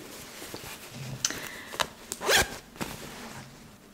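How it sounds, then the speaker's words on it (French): A zipper on a handmade sewn garment is pulled in a few short rasping strokes, with one longer, louder run near the middle; the sound is close and fairly quiet with no talking. "une fermeture éclair, tout ce qu'il y a de plus simple"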